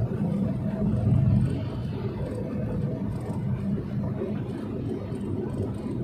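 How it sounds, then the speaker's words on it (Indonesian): Steady road traffic of trucks, motorcycles and buses on the Pantura coastal road near Demak in the early morning, a continuous low rumble and whir of passing vehicles, moderately loud with no talk. "Truk, sepeda motor,"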